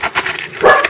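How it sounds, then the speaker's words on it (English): A dog gives a couple of quick, close, loud barks or yelps in under a second, sharp bursts with no talk over them. "Don't mind the dog."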